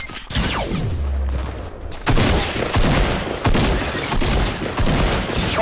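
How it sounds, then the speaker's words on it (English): Loud, dense bursts of rapid gunfire with booming low thumps, continuous and close, in several sustained volleys, in the video game Fortnite. "I'm shooting at him. Just look for the gunfire."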